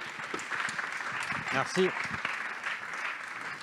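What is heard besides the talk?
audience applause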